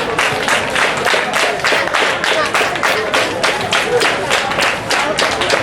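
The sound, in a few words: audience applauding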